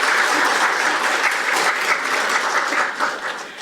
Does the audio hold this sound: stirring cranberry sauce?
no